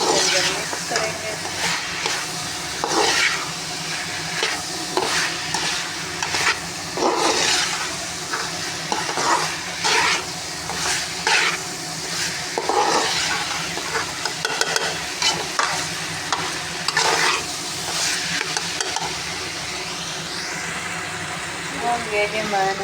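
Achari chicken macaroni is stirred in a pan, with repeated close scraping and clinking strokes of a spoon over a soft sizzle, while someone talks throughout.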